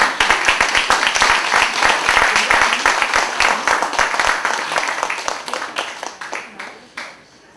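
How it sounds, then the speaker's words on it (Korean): A lecture-hall audience at a poetry and music talk gives a big round of applause. Many crisp individual claps blend into a lively burst that thins out and fades over the final second. "큰 박수 부탁드리겠습니다"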